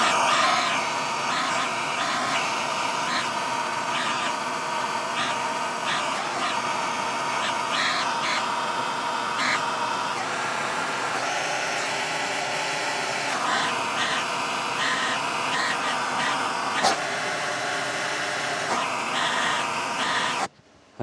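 A gas torch heats a steel shaft and flywheel for silver soldering, giving a steady, close roaring hiss that holds for about twenty seconds before cutting off abruptly.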